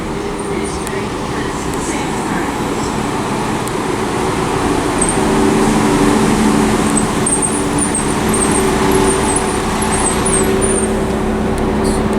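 Two coupled three-car West Midlands Railway class 172 diesel units sit at Stourbridge Junction, their engines droning steadily with a low hum and faint tonal whine, a constant nearby rumble that lasts throughout.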